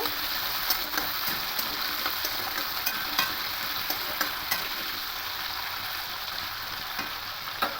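Potato pieces stirred through hot oil in a pan sizzle steadily, with a continuous frying hiss and small clinks of the spoon scraping the pan, close and even throughout.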